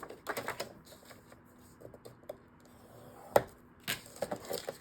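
Cardstock is scored along a scoring board, heard as faint, close taps, clicks and short scraping strokes in irregular bursts against a quiet background.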